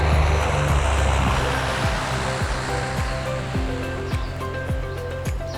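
A propeller plane landing on the Lord Howe Island runway, its engine and airscrew droning loudly and close while the pitch slowly falls as it passes and rolls out.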